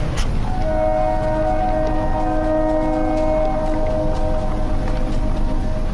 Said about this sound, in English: I hear a train throughout the video